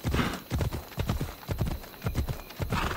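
A horse in the Assassin's Creed Odyssey video game, its hooves clip-clopping in a steady, rhythmic gait close by, with a brief whinny blended in and a faint voice underneath.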